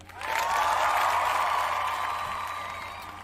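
A short burst of applause with light crowd cheering that swells fast, holds for a moment and then fades, sounding like a stock sound effect dropped in on its own.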